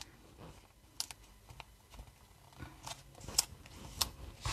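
Scissors snipping small pieces of paper for a handmade card, a few sparse, soft cuts and light rustles close by, with quiet handling noise between snips.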